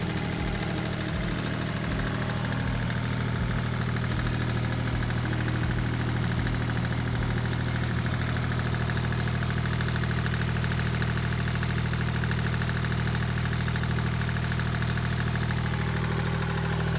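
A Volvo Penta MD2030 marine diesel with a newly fitted water pump runs steadily at idle, a close, loud, continuous low hum with an even rhythmic thud and no talking.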